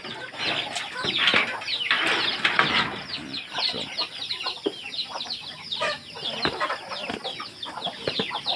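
Many pet chickens cluck and squawk together nearby, with bursts of wing flapping scattered throughout a busy, continuous flock noise.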